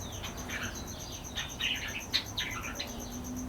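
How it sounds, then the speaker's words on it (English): Young pet birds, a few months old, chirp and tweet in quick bright bursts from a home aviary, with a steady electrical whine and low room noise running underneath. "but I got birds also."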